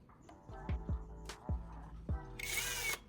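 A small power drill whirs in a few short bursts while drilling holes in a plastic bottle cap, with a higher whine near the end, fairly quiet and close.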